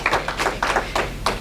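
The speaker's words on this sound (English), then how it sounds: "Can we give her another round of applause?" A few distinct, rhythmic claps for a guest speaker at a meeting, about six sharp hand claps close by, spaced evenly over a second or so.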